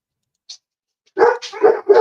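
Dogs at home bark in a short burst of several quick, fairly close barks after a second of near silence.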